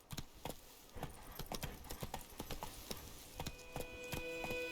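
Geralt's horse Roach galloping in The Witcher 3, a fast, rhythmic run of sharp hoof clops close by, with a sustained tonal sound rising in the last second.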